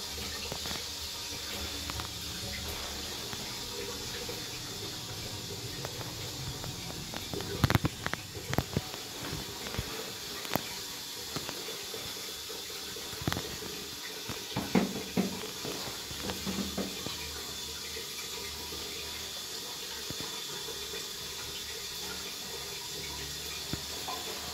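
A Twyfords Nocturne toilet cistern refilling after a flush in a pub gents in Sheffield, a steady faint hiss of running water with a few brief knocks and clunks partway through.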